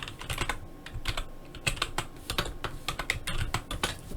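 Someone types on a computer keyboard in a quick run of close, crisp key clicks, with nobody speaking.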